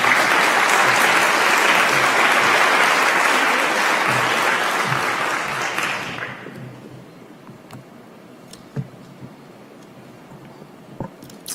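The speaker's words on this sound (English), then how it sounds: "please join me in a loud round of applause for Zainab" A conference audience in Denver breaks into loud, dense applause that holds for about six seconds, then fades to scattered claps and a quiet room with a few isolated knocks.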